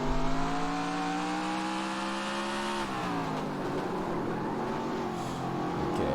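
A racing car engine drones at high revs in the NASCAR Racing 2003 video game, a modified car at Riverside Park Speedway; the pitch drops as it shifts, with a faint tire squeal under the steady engine roar.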